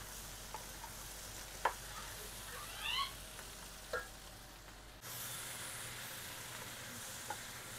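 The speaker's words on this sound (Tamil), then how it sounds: "நல்ல கலருக்கு வதக்கி எடுக்கும்." Paneer masala ingredients sautéing in a pan give a low, steady sizzle broken by a few faint stirring clinks and scrapes, with the frying hiss growing slightly louder and denser partway through; no one speaks.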